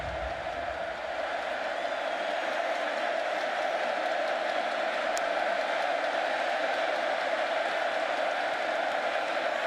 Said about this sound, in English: this crowd is coming alive here